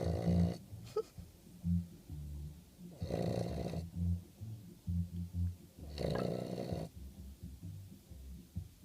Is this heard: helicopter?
no